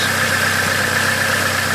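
A Ford Focus Mk1 with a 1.4 engine idles steadily after an oil and filter change, a constant mid-pitched hum with light rhythmic vibration, close and fairly loud, no voices.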